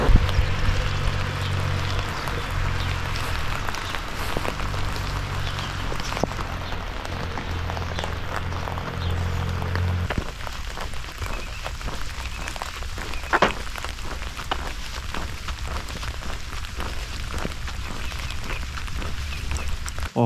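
Steady rain falls on a hiker walking the Schleswig-Holstein trail near a village, a dense broadband patter that continues throughout, with a low rumble in the first half and a few sharper drops standing out.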